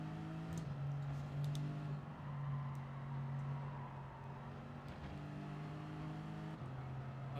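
A car in Gran Turismo 7 at Daytona drones with a steady engine tone that rises and shifts pitch through upshifts, moderately loud and continuous with faint background noise.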